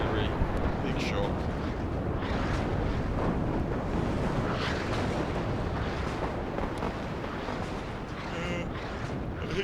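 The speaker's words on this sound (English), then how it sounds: "artillery, big shot" Artillery fire in the WARNO real-time war game forms a dense, continuous barrage of booming blasts and rumbling impacts, loud and crowded, with a voice talking over the din.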